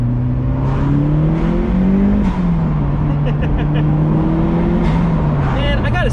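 Engine of a turbocharged Mazdaspeed NB Miata making about 210 wheel horsepower while driving, a steady loud drone from inside the car that rises and shifts in pitch through gear changes, with a faint whistle near the end.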